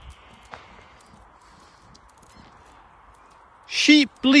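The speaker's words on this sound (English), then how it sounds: "Sheep bleating." Two loud, close sheep bleats at the end, each a harmonic, wavering call, following several seconds of quiet outdoor ambience near a small primary school car park on a summer afternoon.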